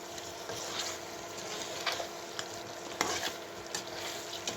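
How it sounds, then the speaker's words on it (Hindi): Spices frying and being stirred in a pan for Kashmiri Wazwan-style mirchi korma, a steady soft sizzle with scattered scraping stir strokes, close and moderately quiet, no talking. "ये जो हम सारे मसाले यूज़ कर रहे हैं इनको अच्छे से फ्राई करना है इन सभी चीज़ों के साथ"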